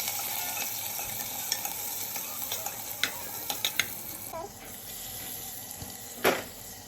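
Onion sautéing with ginger garlic paste, green chilli and curry leaves in oil, a steady low sizzle with stirring, scattered sharp clicks and taps, and a louder clatter near the end.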